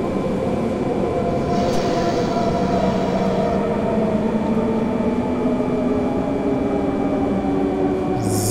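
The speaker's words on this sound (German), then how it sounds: "jetzt gehen wir in die Bremsung" Braking BR420 S-Bahn electric train in Train Simulator 2017, a steady loud rumble of rolling wheels with a descending motor whine as it slows, continuous with no talk.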